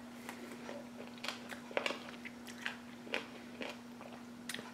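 Several crisp crunchy bites and chewing of fermented dill and garlic pickled watermelon rind, close up, scattered irregularly over a faint steady hum, with no talking.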